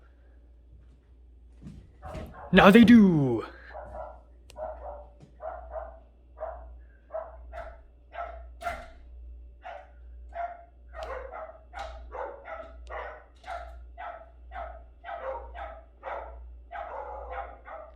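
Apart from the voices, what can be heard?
dogs barking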